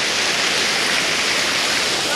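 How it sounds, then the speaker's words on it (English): Aling Aling waterfall in Bali roars with a steady, loud broadband rush of falling water, continuous and close throughout, with no clear voices over it. "We just made it here to the main waterfall."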